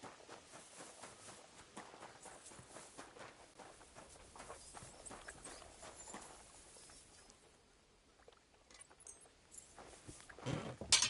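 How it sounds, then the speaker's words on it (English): In the video game Kingdom Come: Deliverance II, a horse's hooves clip-clop in a faint, steady patter, like footsteps, that fades toward the end. "My, what a beautiful horse."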